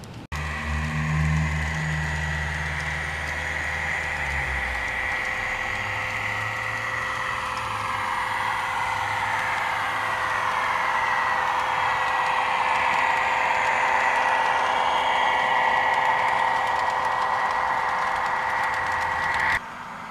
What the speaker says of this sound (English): that sound you're hearing is this reefer car here